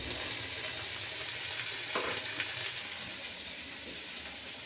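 Mixed vegetables including yardlong beans fry in a pan, giving a steady close hiss and crackle of hot oil that holds throughout, with a faint knock partway through and no voices.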